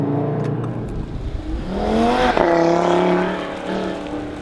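An Audi TT RS engine, a raspy five-cylinder paired with a dual-clutch gearbox, revs loudly and close, its pitch climbing in smooth sweeps with a sharp blip midway before settling into a sustained, rising drone.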